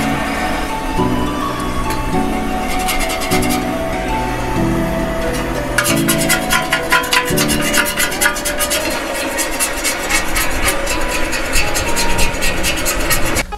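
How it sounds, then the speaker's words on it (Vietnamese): Old paint is scraped off a motorcycle exhaust pipe on an STB Winner X, producing harsh rhythmic rasping strokes that grow busier and grittier in the second half, close and loud. "Bây giờ mình sẽ tiến hành cạo cái bớt cái nước sơn cũ các bạn"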